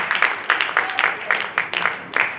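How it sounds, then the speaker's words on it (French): Audience applause in a hall at a basketball final, a steady spatter of clapping lasting about two seconds, with sharp bursts recurring roughly every half second. "On les applaudit."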